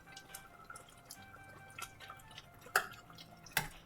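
Three whole bagels simmer in a pot of water, giving quiet, sparse bubbling with soft pops and two sharper drip-like plinks near the end, faint and close.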